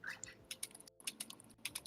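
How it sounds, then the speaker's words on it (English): Typing on a computer keyboard, a quiet run of irregular clicking keystrokes with a brief pause midway, heard faintly and close. "I hear typing"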